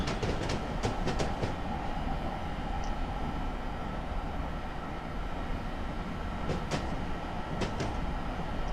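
An ALP-45DP locomotive in Train Simulator 2018 on the North Jersey Coast Line rolls steadily with a constant low rumble, broken by clusters of sharp rail clicks near the start and again toward the end, with no talking.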